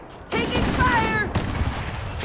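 Rapid gunfire from Halo: Campaign Evolved bursts out suddenly, a dense rattling volley with whizzing tones, then a second sharp blast as the shooting tails off, with a voice calling out over it.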